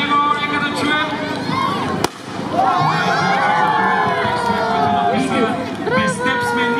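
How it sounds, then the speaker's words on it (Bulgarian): Outdoor crowd at the Gabrovo carnival in Bulgaria cheering and clapping, a loud sustained roar of shouts, whistles and voices with a sharp bang near the middle, continuing steadily to the end. "Аплодисменти за него, нека да чуем."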